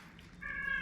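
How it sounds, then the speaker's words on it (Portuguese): A cat gives a single drawn-out meow, clear and fairly close, rising in after a quiet moment and holding steady to the end. "Agora eles estão ouvindo a gata."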